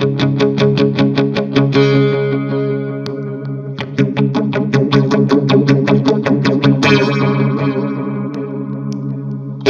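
Electric guitar played through an Electro Harmonix phaser pedal, Small Stone or Bad Stone, with loud strummed and picked chords and a sweeping, swirling phase effect that rises and falls across repeated rhythmic chord stabs.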